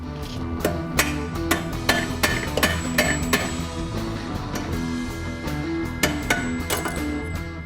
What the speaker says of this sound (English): this bolt you will have to tap out with a hammer